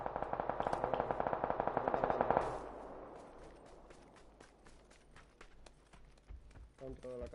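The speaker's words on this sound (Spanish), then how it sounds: "está aquí conmigo disparándome" Rapid automatic gunfire from an enemy in the battle game PUBG, a loud, dense burst of shots for about two seconds, then scattered sharper single cracks and rattles over a noisy background.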